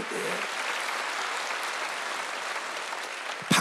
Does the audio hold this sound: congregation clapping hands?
yes